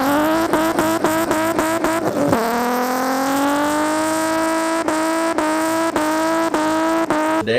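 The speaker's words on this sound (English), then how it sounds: "I did a big fat smoky burnout to send off the old Bridgestones." A Nissan Z does a smoky burnout on worn-out Bridgestone tyres. Its engine revs loud and close in repeated sharp pulses, swells into a long climbing scream, then chops against the limiter again.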